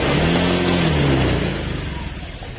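Honda Click scooter engine starting and revving, a loud close engine note that rises then eases back, sliding in pitch before settling toward idle, with no talk over it.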